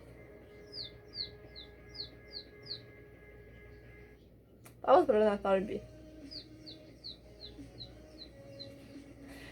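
A person whistles short, high, falling chirps imitating a bird, two quick runs of them with someone speaking in between.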